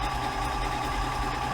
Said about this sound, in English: while I'm sewing, I'm touching the lock stitch button, and the machine is finishing the sequence of the design